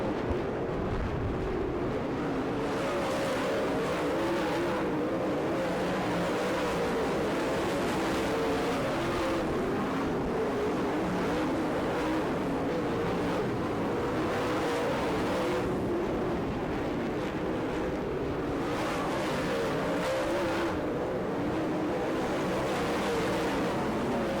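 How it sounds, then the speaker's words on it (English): Late model race cars roar continuously around a dirt track at Gibsonton, Florida, a loud, steady engine drone with rising and falling passes throughout. "Bill Fry brings car number 66 up to the third spot."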